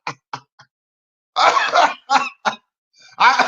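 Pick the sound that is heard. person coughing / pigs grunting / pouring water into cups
person coughing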